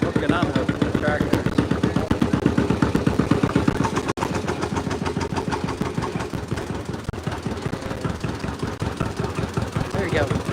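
An antique John Deere pulling tractor runs at a tractor pull, its engine chugging in a loud, steady rapid thump that carries throughout, with voices faintly underneath.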